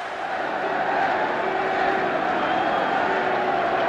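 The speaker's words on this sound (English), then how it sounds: "And just listen to the roar from this crowd as the red jersey appears" A packed rugby stadium crowd roaring as Wales take the field at a 1972 New Zealand v Wales test match, a loud, continuous wash of cheering that holds steady without pause.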